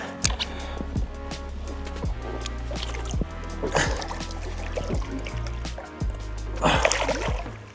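A big Everglades redfish is let go back into the water, with irregular splashes and drips close by from the release at the side of a boat.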